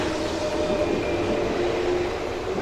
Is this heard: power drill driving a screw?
no